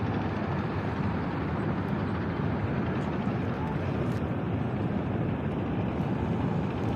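Trawler boats working a river near Sylhet, Sunamganj, used for sand cutting, with a steady, dense engine drone and wind rumble that stays even throughout.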